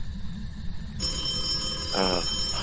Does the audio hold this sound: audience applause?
no